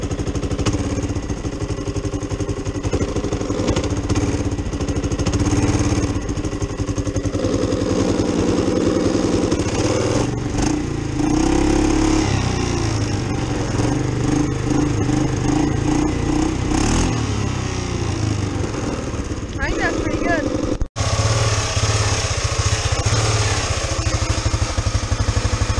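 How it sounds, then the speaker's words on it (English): A repaired four-wheeler ATV engine runs steadily and loudly for the whole stretch, a continuous mid-pitched drone that cuts out abruptly near the end. "My four-wheeler is running so much better."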